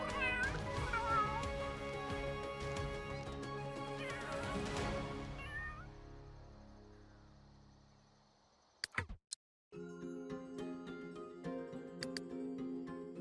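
Cats and kittens in the Sims 3 game meowing in repeated high calls over steady tonal game sounds, which fade before a short silence and then return more quietly.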